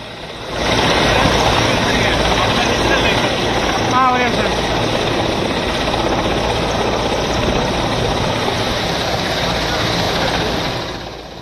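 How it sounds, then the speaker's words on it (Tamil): Helicopters and Rafale fighter jets flying at an air force rehearsal, a loud, sustained roar of engines and rotor noise that swells in and holds steady overhead before fading slightly at the end. "ஹெலிகாப்டர், ரஃபேல் உள்ளிட்ட பல்வேறு விதமான போர் விமானங்கள் ஒத்திகையில் ஈடுபட்டன."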